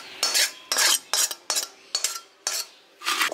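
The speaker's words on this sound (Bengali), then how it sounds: "এবার আমি গ্যাসটা বন্ধ করে এটা একটা পাত্রে ঢেলে ফেলছি।" A spoon scrapes cooked vegetable chop filling out of a pan into a container in about seven distinct, loud, close metallic scraping strokes with short pauses between them, and no voices.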